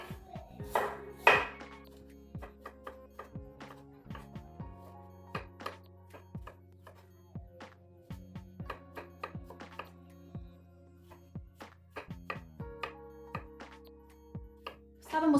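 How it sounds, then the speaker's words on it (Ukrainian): Repeated knife strokes chop apples into medium cubes on a cutting board in an irregular rhythm, close and crisp, with occasional louder thunks and faint kitchen clatter. "Ми нарізаємо на ось такі кубики."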